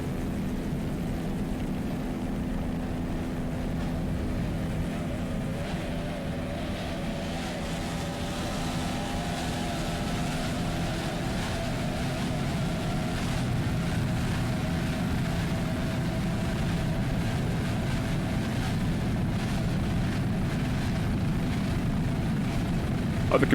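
An offshore racing powerboat with three Mercury 2.5 EFI outboards runs at the 2002 Key West World Championships. Its engines give a constant, heavy droning hum from some distance, holding steady the whole time.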